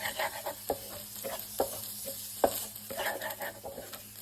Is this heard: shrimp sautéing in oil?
yes